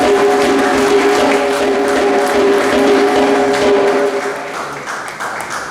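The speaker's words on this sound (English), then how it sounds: "Please give them a round of applause" An audience at a Guyanese racial-equality symposium applauds the visiting Reparations Committee with sustained, loud clapping that fills the hall, then begins to thin out and fade near the end.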